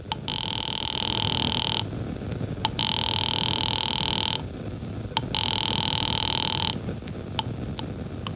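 Old-style telephone ringing in a 1940s suspense radio drama, three long bursts of ringing separated by short pauses, with brief clicks between them over a hissy background.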